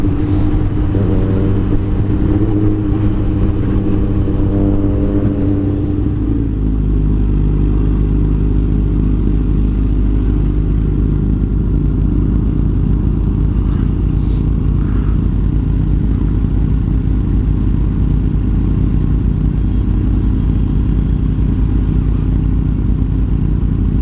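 A Yamaha R1 motorcycle engine roars loud and close, revving hard and climbing through the gears, its pitch rising, dropping at each shift and rising again, then settling into a steady, rumbling high-speed drone.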